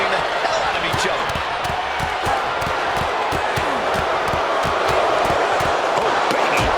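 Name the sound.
forearm strikes in wrestling video game WWE 2K26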